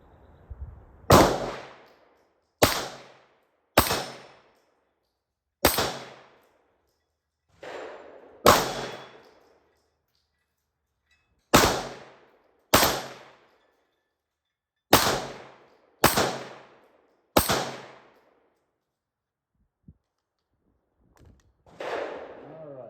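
Gunshots fired at medium steel targets ring out as about ten loud, sharp reports, spaced unevenly with quiet gaps between them, outdoors with no talking.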